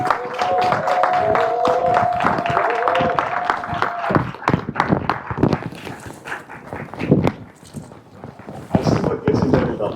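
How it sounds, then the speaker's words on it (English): Audience applause at a Black History Month panel event, clapping in a dense burst that thins into scattered claps and then fades. Near and moderately loud, with no talk over it. "help me welcome with a resounding applause, Professor Obadele Kambon"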